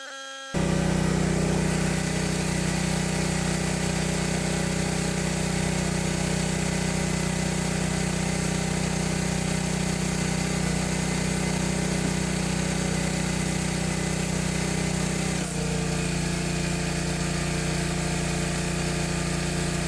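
Harbor Freight surface cleaner attached to a running pressure washer, a loud, steady engine drone with a constant hissing spray throughout, shifting slightly in pitch near the end, no voices.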